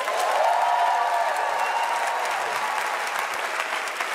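A comedy show audience in Stuttgart applauding and cheering, a loud sustained wash of clapping with whoops rising over it, steady and full throughout.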